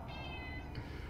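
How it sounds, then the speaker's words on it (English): A real cat meows loudly once in a drawn-out, close call, standing out over a low background hum, with no talking. "I'm sure you can hear the cat, because he's being quite loud."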